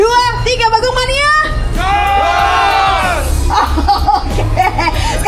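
A crowd of bus enthusiasts at a bus launch event shouts a chant together in unison, loud and close, with scattered voices and laughter around it.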